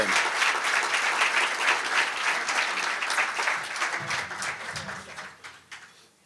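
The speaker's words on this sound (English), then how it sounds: "So please help me give them a round of applause as they come up here." Audience at a chamber of commerce monthly luncheon in Pasco giving a round of applause, a full room of clapping that holds steady, then thins and fades out over about six seconds.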